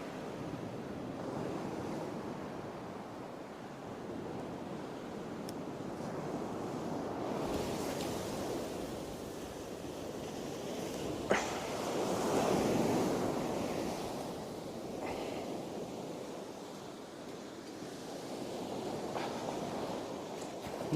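Surf and seawater rush out fast along the shingle beach at Bawdsey, a steady broad roar with wind buffeting the microphone and a louder swell surging midway.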